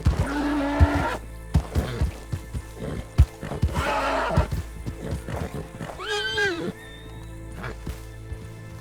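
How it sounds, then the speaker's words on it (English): Horse in the Red Dead Online video game whinnying several times, with clip-clop hoofbeats and other game sounds around it, loud and close, with no talk. "Successfully broken the horse, of course."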